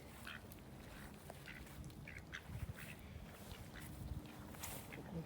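Mallard ducks quacking while being fed in the wild, a scatter of short, faint quacks and calls over steady outdoor background noise, no voices.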